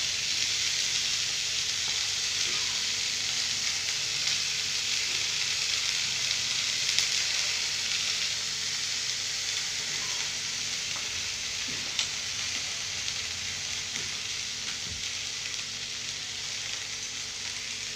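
Grated coconut sizzles and fries in a hot pan during home cooking, a steady close hiss of frying with soft scraping stirs throughout and no talk.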